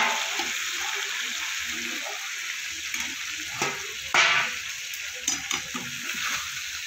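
Fried taro and potato are stirred and sautéed with spices in a hot pan, giving a steady sizzle broken by several sharp scraping stirs of the spoon, close up, with no talk.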